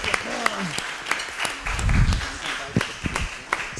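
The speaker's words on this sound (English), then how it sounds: "big applause for the speakers" Audience applause for the speakers at a science diplomacy talk event in Barcelona, scattered claps heard up close with a low rumble and a few voices mixed in.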